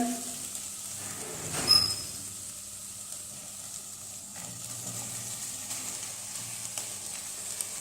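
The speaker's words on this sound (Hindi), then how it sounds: "और चिकन को भी अच्छी तरह फ्राई कर लेंगे" Chicken sizzles steadily in a pan with half-browned onions for a samosa filling, with a brief louder clatter early on, then a continuous low frying hiss with no talk.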